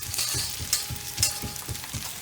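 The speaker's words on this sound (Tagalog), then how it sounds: "Ihulog ko na yung beef, ha." Beef sizzles and crackles steadily in a hot oiled pan over medium-high heat for pad thai, with a few louder spatter bursts and the scrape of stirring, no voices.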